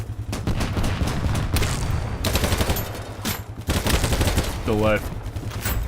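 A light machine gun in a shooter video game fires rapid sustained bursts with brief pauses, loud and close, while a voice talks briefly over the gunfire.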